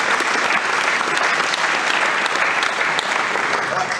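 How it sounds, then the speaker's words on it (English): An audience applauds the freshmen at a school athletics ceremony, a dense, steady wash of clapping that stays loud and even for the whole span. "So give them one last round of applause"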